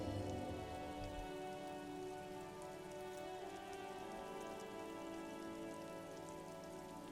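Steady, dense rainfall in the video game Disco Elysium patters across surfaces, a continuous wash of drops with a low rumble beneath, constant and enveloping throughout.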